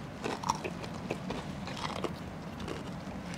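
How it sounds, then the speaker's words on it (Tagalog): Crisp bites into Popeyes fried chicken, a quick run of close, crackly crunches and chewing, fairly quiet, with no talking. "Ang lutong ng iyong pagkain."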